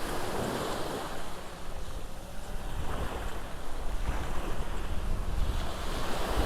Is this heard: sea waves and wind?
yes